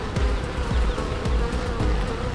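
Honeybees buzz close by in a continuous, loud drone with a rhythmic pulsing hum, and no one speaks over it.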